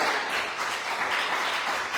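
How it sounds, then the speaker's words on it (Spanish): A church congregation applauds during a sermon, giving a steady, dense wash of many hands clapping at once, fairly loud and sustained throughout with no voices on top. "Le damos un fuerte aplauso al Señor."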